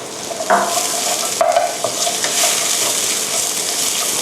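Carrots and shiitake mushrooms being stir-fried in a pan with garlic, a steady sizzle under scraping stir strokes, with brief louder clatters near the start and at mid-clip.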